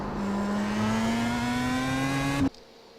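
Pro Mazda race car in iRacing at the Nürburgring, engine at full throttle with a smooth rising whine for over two seconds, then a sudden cut as the throttle lifts, no voices.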